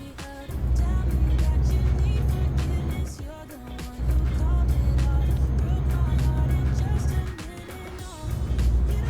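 A heavy truck drives in Euro Truck Simulator 2, its steady low engine drone continuous and fairly loud, dipping briefly near the middle before resuming, with a voice talking over it at times.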